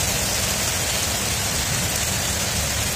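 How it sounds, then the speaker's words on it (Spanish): Steady rain pours down in a dense, even hiss that holds at a constant loud level throughout, with no voices. "Empezó a llover"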